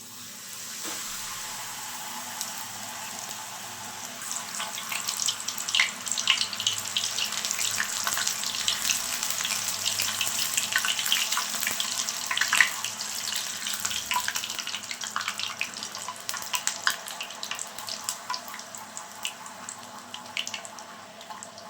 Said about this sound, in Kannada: ಇದನ್ನು ಎಣ್ಣೆಯಲ್ಲಿ ಕರಿಯೋದು. ನಮ್ಮ ಎಣ್ಣೆ ಚೆನ್ನಾಗಿ ಕಾದಿದೆ.